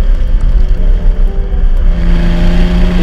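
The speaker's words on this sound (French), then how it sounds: "Et que dire du 6 cylindres et sa sublime partition à milieu des bruits trafiqués d'aujourd'hui" Six-cylinder engine of a classic Aston Martin DB6 GT, loud close-up rumble with steady engine harmonics and a slight rise in pitch toward the end.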